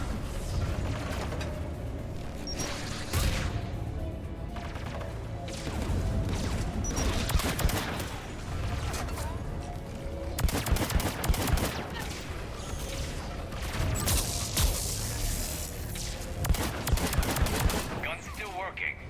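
Turret gun fire in the Mass Effect 3 video game: rapid mechanical bursts with clattering, ratchet-like weapon noise that continues throughout, loud and close, under a dense game soundscape.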